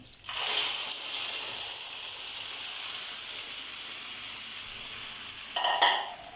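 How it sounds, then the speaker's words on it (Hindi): Milk poured into a hot pan of fried bread for bread halwa, a steady loud sizzle and hiss running the whole time, with a brief louder splash of sizzling near the end. "अब इस स्टेज पर हम पहले डालेंगे दूध"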